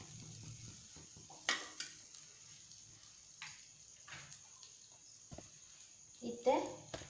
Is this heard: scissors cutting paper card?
no